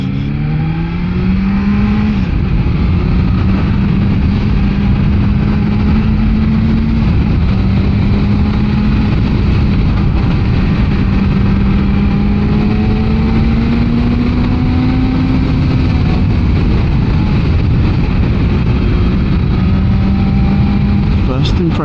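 A BMW M1000XR Competition motorcycle engine on a test ride drones steadily and loudly throughout, its pitch rising in several long sweeps as the rider accelerates, with a voice briefly heard under the engine noise.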